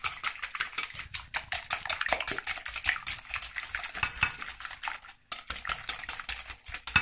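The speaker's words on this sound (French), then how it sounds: "on va mélanger tout ça" Oil and sugar being stirred together in a bowl for coconut petits fours, a steady run of quick scraping, clicking strokes close by with one brief pause.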